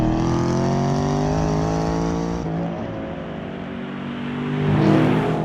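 A Chevrolet Camaro Z/28 with its 7-litre normally aspirated LS7 V8 drones loudly and steadily under load, eases off as it shifts down in pitch, then swells again as the engine builds revs near the end, with no talking.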